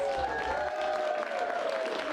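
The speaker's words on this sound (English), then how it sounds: "Give yourself a round of applause for being here tonight." An audience applauds itself at the start of an improv comedy show, with moderate, steady clapping and crowd noise under a sustained tonal musical sound.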